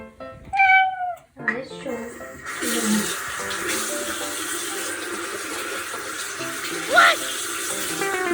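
A cat meows loudly and repeatedly at close range while someone brushes their teeth at a sink, with running tap water hissing steadily beneath the cries and a person speaking briefly near the start.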